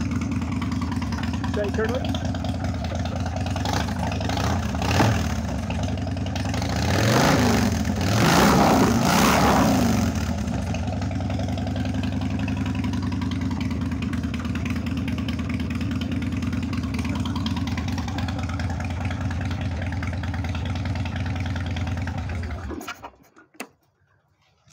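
A Harley-Davidson motorcycle engine idles close by just after starting, a steady clacky running note rather than a deep rumble, with a brief swell midway and a voice speaking over it before the engine cuts off near the end.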